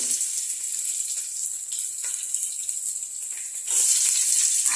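Garlic and ginger fry in hot oil with a steady, fairly quiet sizzling hiss that swells louder toward the end, with no voices.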